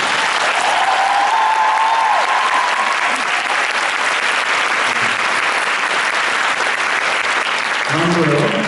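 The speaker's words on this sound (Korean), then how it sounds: "박수 한번 부탁드립니다" Sustained audience applause for the Korean director at the final-performance curtain call of the musical Death Note, a dense, loud wash filling the whole stretch with a brief crowd murmur near the end.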